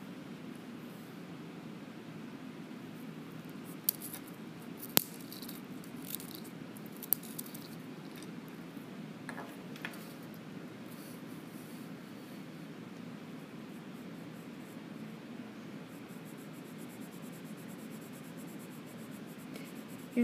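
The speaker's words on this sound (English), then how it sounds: "You always want to make sure that you use short, neat strokes and have a very sharp pencil." Colored pencil making short, neat strokes on paper with a very sharp point, a steady faint close scratching that continues for a long stretch, with a few small taps.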